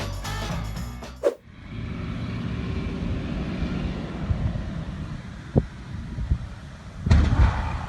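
An airplane lands roughly, a sharp loud crunching impact followed by sustained low rumbling and roaring, with a brief knock midway and another heavy thud and rumble near the end.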